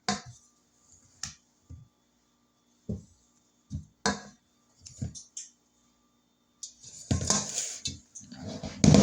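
A cake pan filled with sweet potato pound cake batter is shaken and knocked down against a surface, producing a series of separate sharp knocks and rattles spaced a second or so apart, ending in a denser clatter.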